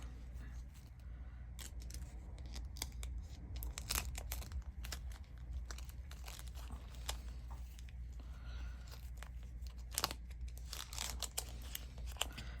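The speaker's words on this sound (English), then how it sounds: "now we're going to tape the 2 pieces back together" Adhesive tape is pulled and torn close by to join two pieces of a Santa wreath made from bath loofahs, giving a string of sharp crinkling and ripping bursts over a steady low background hum.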